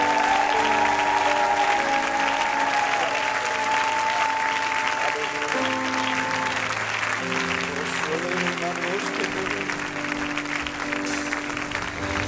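A church congregation applauding and acclaiming God, dense sustained clapping mixed with voices and organ-like held tones, loud and continuous for several seconds.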